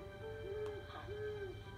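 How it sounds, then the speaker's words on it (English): An owl gives two soft, hollow hooting calls, a short one then a longer one, faint and steady against a quiet background hum. "It's just an owl that pays me a visit sometimes."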